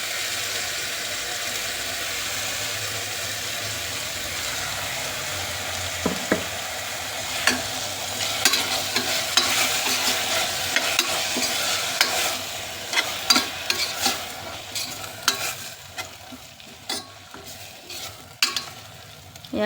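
Ground masala frying and being stirred in a pan for naati-style boti biryani, with a steady sizzle and scraping spoon strokes that grow sharper and more frequent in the second half, no voices.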